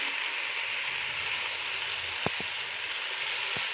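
Ginger garlic paste fries in a pan with a steady, close sizzling hiss, interrupted by a few soft utensil taps, alone.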